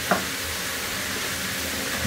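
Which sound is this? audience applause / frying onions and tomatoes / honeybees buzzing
frying onions and tomatoes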